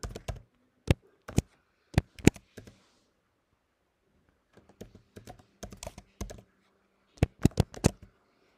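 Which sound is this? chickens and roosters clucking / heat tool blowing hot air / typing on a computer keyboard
typing on a computer keyboard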